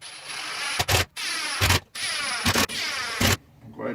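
A drill drives fine-threaded screws into pocket holes in hardwood, set to a low clutch setting, in four short, loud whirring bursts separated by brief pauses, close and without talk.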